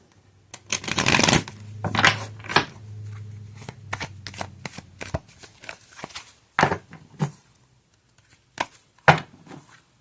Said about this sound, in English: here's the Higher Love Oracle, one card from this